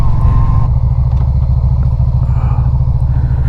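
A Yamaha Virago 250 motorcycle engine runs steadily, a continuous low droning hum with a buzzy harmonic texture, close and fairly loud, with no voices.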